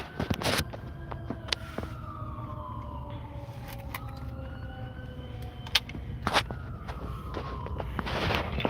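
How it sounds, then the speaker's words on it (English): A fire truck siren wails and sweeps in pitch as the truck passes, moderately distant over street rumble, with a few sharp knocks and footsteps nearby. "now they got a fire truck coming through."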